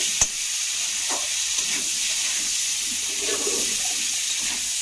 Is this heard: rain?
no